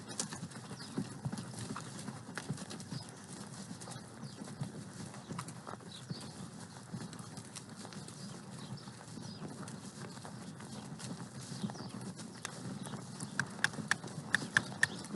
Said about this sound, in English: pull your horse back a little bit and give room for Garnet.